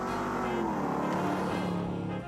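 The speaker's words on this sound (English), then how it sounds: "nothing sounds like a flathead, and that's really true" A Ford flathead V8 engine humming steadily at moderate distance, with a smooth continuous drone and layered low tones, no speech.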